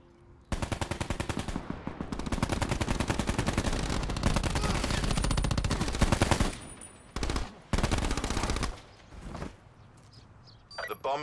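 Rapid automatic fire from the SWAT rifle in a Call of Duty Search and Destroy match, a dense sustained burst of several seconds followed by a few shorter bursts with brief gaps, loud and close.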